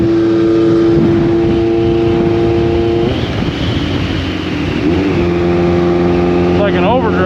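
A 1986 Honda CB1000 custom motorcycle engine drones steadily at cruising speed, with a brief dip in pitch as it shifts into high range before settling back to a smooth, constant hum, while wind rushes past and someone talks.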